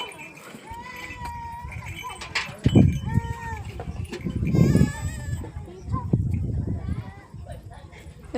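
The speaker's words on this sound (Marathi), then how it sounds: "हे बघा कसं करते ते वासरू." A calf bleats a few times at a rural home while cows are being watered, with someone talking over much of it and farm noise around.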